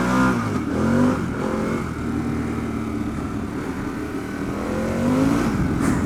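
A Harley-Davidson Pan America adventure motorcycle accelerates hard off-road, its engine rising in pitch through a rev sweep, holding a steady roar, then climbing again near the end, loud and close.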